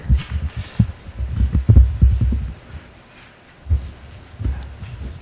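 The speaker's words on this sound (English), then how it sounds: "My heartbeat." A heartbeat plays at a city council meeting, heard as low, muffled, throbbing thumps in uneven clusters with brief quiet gaps.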